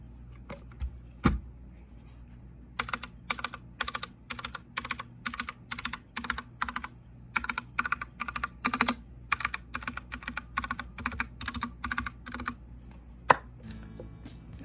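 Typing on a Matrix Elite White 60% keyboard, a steady run of crisp, close key clacks in quick bursts with short pauses, plus a couple of louder isolated thumps near the start and end.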